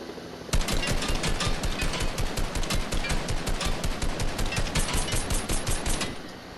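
Rapid automatic gunfire in a shooter video game, a sustained loud burst of evenly spaced shots lasting several seconds before stopping abruptly, with no speech.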